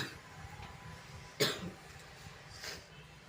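One person coughs sharply once, then gives a softer second cough a moment later, both fairly close against a quiet indoor background.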